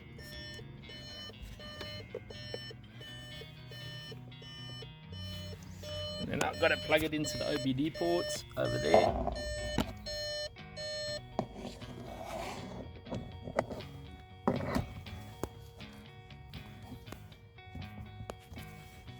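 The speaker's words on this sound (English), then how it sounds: "Just ignore the beeping, it will turn off now." A steady electronic beeping repeats inside an Audi A1 TFSI while someone talks over it, with some clunks and handling noises as a Launch code reader is plugged in.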